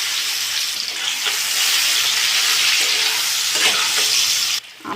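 Raw mango pieces hit hot mustard oil seasoned with panch phoron and dried chillies, giving a loud, close, continuous hiss and crackle with faint stirring scrapes, ending in a sudden drop.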